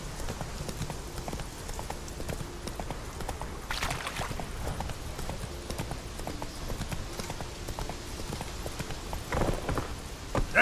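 Rapid rhythmic hoofbeats of a galloping horse in the video game The Witcher 3: Wild Hunt, continuous and fairly close, with a few brief louder bursts near the end.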